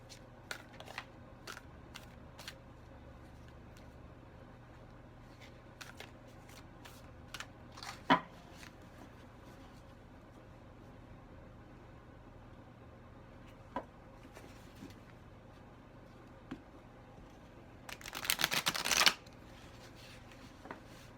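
Tarot cards being shuffled by hand, heard as soft, quiet riffles and scattered taps spread unevenly across the stretch, with a louder burst of flicking near the end and no talking.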